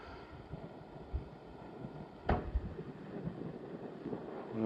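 Wind blows in Matopo park, Zimbabwe, under grey skies: a soft, low rumbling gusting against the microphone, faint and steady, with one sharp knock partway through.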